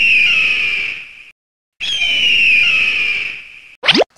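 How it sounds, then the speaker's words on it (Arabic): An eagle's whistling cry: two long, loud, steady high whistles separated by a short pause, followed by a quick sweeping whoosh at the end. "صفير النسر"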